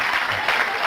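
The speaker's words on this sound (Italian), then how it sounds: "applaudiamo le mani qua" Audience applause in a studio comedy show, a dense continuous wash of clapping hands, fairly loud and steady throughout the short burst.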